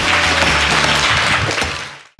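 An audience at a presentation event claps together, a dense burst of applause that holds strong for about two seconds before it quickly thins out and stops.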